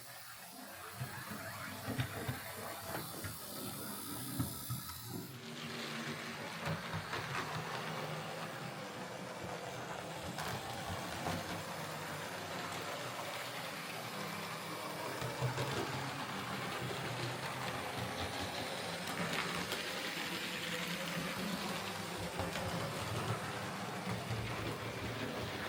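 A serviced model train locomotive with a reworked motor and replacement bogie wheels runs along its track, giving a steady, fairly faint whirring rumble with continuous hiss that holds evenly for the whole stretch, with no voices.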